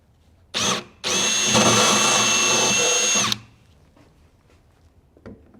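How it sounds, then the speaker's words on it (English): A power drill bores an 18mm hole into a plaster wall for an 8mm cavity anchor, a short burst followed by a steady, loud whine lasting about two seconds before stopping, then quiet. "Now I'm going to drill the hole for the anchor."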